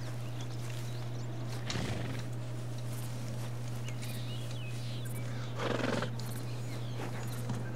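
A horse neighs twice, a shrill whinny early on and another a few seconds later, heard at moderate distance over a constant low electrical hum and faint outdoor background.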